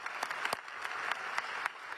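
Applause from delegates as a climate finance deal is reached at the Baku summit, a dense, steady wash of clapping with a few sharper hand claps standing out, heard at a distance.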